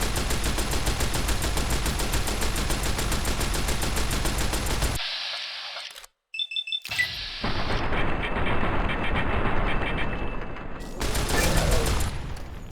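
A shoulder mounted machine gun in Fallout: Lonesome Road hammers out long, loud, rapid-fire bursts, cut by a sudden near-silent gap and some short bursts, then resumes with heavy blasts and impacts.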